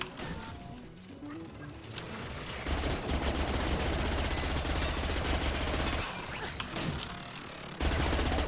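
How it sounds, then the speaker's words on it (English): SMG fire in the video game Mass Effect, long sustained bursts of rapid automatic gunfire with brief pauses, mixed with impacts and combat noise at a fairly low level. "I don't like that SMG. It is so inaccurate."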